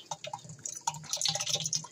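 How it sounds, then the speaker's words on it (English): Homemade guava agua fresca strains through a kitchen strainer with a soft trickle and scattered drips, uneven and close, growing busier toward the end. "Just let that strain through."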